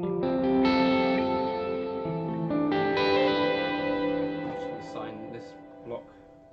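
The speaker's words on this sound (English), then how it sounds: "So the polysustain works great" Sustained, layered guitar chords through a Line 6 HX Stomp polysustain effect ring out with a thick, processed shimmer, swelling and slowly fading, with a few softer notes near the end.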